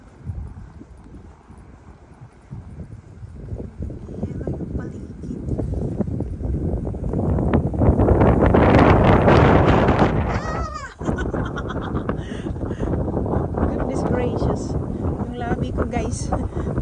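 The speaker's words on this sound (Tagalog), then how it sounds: "Tapos mahangin pa." Strong, cold wind in South Korea buffets the microphone in heavy rumbling gusts, building to a peak and then cutting off sharply before resuming, with voices underneath.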